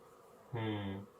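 Honey bees buzz in a colony being boosted, a steady droning hum that swells up close for about half a second against a quiet background.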